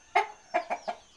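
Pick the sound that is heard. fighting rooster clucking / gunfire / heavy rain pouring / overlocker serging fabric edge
fighting rooster clucking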